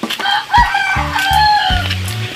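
Pet chickens cluck close by in a backyard while a rooster crows, a burst of clucks followed by a loud drawn-out crow, all near and clear with no talking.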